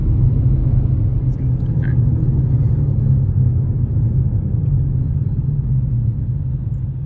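A Whipple-supercharged drag car with a drag pack accelerates with its tires spinning, giving a loud, steady low engine rumble that holds for the whole stretch.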